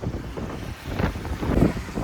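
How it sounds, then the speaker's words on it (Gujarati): Strong wind buffets across a bridge over the Tapi river, gusting in loud, rough surges that swell and dip over a couple of seconds, with no voices. "અહીંયા પવનનો અવાજ બહુ આવે"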